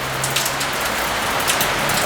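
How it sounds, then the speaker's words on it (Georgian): Heavy rain pours down in a yard, a dense, steady hiss of drops hitting the ground, close and continuous with no voices. "არის მაგარი წვიმა ხა."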